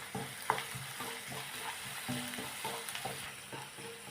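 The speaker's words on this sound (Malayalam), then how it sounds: "ഇഞ്ചി വെളുത്തുള്ളി പച്ചമുളക് എല്ലാം നല്ലോണം വഴന്നേ ഞാൻ തൊട്ട് ഈ വേവിച്ച് വെച്ചിരിക്കുന്ന ബീട്രൂട്ട് ഇവിടെ നിട്ട് നല്ലോണം വഴറ്റുവാണ്" Ginger, garlic, green chilli and cooked beetroot sautéing in hot oil give a soft, continuous sizzle, broken by rhythmic scraping strokes of stirring close by.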